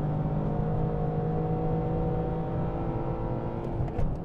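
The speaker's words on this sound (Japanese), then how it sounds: "エンジンも元気よく回ってますね" A Toyota Yaris engine revving on a test drive, heard from inside the cabin as a steady, loud drone with a sustained hum, holding near-constant intensity.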